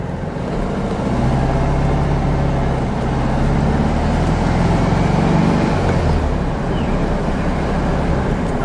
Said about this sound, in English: we'll give them a little acceleration in the Beetle, so they can hear that sound